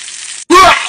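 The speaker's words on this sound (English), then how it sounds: "Do you hear the sizzling?" Loud, close sizzling of burgers frying on a grill, a steady crackle briefly cut by a short gap before it surges back.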